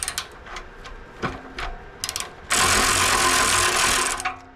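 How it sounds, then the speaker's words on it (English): A ratchet works on exhaust bolts under a Ford Bronco during a cat-back exhaust swap, giving scattered short clicks followed by a sustained rapid ratcheting run, close and fairly loud. "Just gonna take these two bolts out, then undo the hangers, and it should just slide out."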